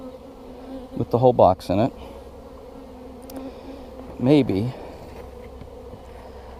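Honeybees at an opened hive, buzzing in short bursts that rise and fall, with a low steady hum of the colony in between and a person speaking briefly.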